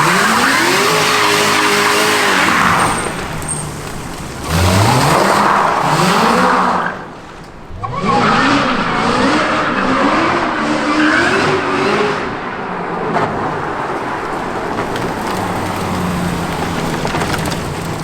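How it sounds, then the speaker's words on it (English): Aston Martin V8 Vantage fitted with an LT4 engine doing a burnout, the V8 roaring and revving in rising, repeated surges while the tires screech and skid loudly throughout, the noise dipping briefly midway before building again. "Are you allowed to do a burnout during the lockdown?"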